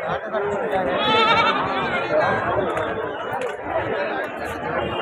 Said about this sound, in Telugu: ఒక జుడిపి పొట్టేళ్ళు ఉన్నాయి